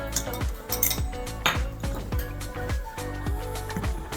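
Flour and baking powder stirred in a bowl, a spoon clinking and knocking against the sides in a quick, irregular rhythm of bright taps, close and moderately loud.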